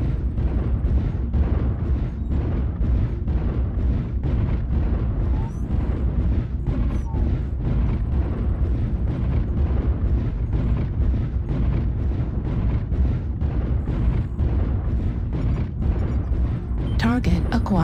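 Dense missile explosions roll continuously in MechWarrior Online, from a Mad Dog MDD-A mech barrage, loud rumbling booms packed with sharp bursts across the whole stretch, with no talk.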